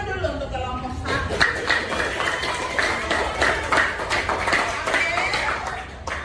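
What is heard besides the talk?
class applauding for group 1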